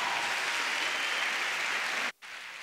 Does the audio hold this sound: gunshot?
no